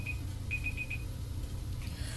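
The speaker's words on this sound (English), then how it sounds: "that's my timer" A timer sounds off during an eyelash lift session, a short run of quick, thin electronic beeps over a steady low hum, fairly faint and with no talking.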